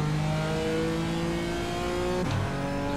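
Race car engine in the iRacing sim revs hard and steadily, with pitch holding then dropping sharply and climbing again near the end, loud and continuous with no talk.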